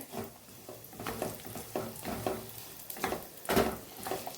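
Pitted dates roasting in ghee in a pan over a very low flame, with soft stirring scrapes in an uneven rhythm and a gentle sizzle, close and moderately quiet, plus one louder scrape near the end.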